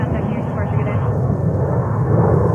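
JetBlue Airbus A320 jet at JFK airport, a steady broadband engine roar sustained and fairly loud throughout, with faint voices mixed in underneath.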